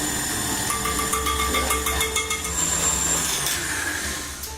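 An electric mixer beats thick buttercream at reduced speed, a steady close whirring hum with faint rattling and scraping, heard alone without talk.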